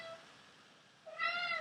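A cat lets out a single clear meow near the end, rising then holding, after a stretch of quiet room tone.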